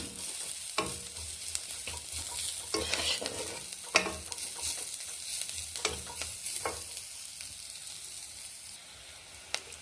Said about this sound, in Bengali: পেঁয়াজটা একটু ভেজে কাঁচা লঙ্কার কুচি দিয়ে দিলাম